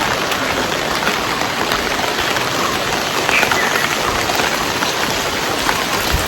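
Heavy morning rain pours steadily during a Pongala temple offering, a dense, even hiss of drops on surfaces that holds at constant loudness throughout, with no voices.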